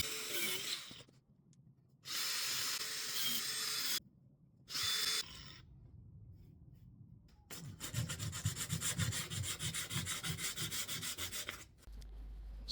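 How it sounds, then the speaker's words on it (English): Power sanding of wood while building a 3ft vivarium for a corn snake, long bursts of loud, rough grinding that stop and start, ending in a sustained buzzing stretch, with no talk. "So then I'd finished sanding"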